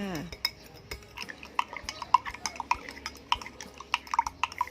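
Spoon clinking and scraping against a bowl while stirring shrimp paste and MSG into water to dissolve them, a quick irregular run of light metallic taps, close and fairly quiet.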